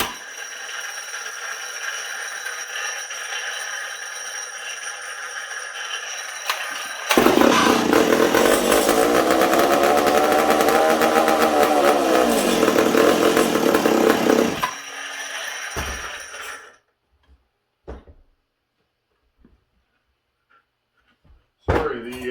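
A Mac Super Pro chainsaw with an air leak runs on a workbench, idling steadily before revving loud and sustained for several seconds, then dropping back and cutting off, with a few brief bursts afterward.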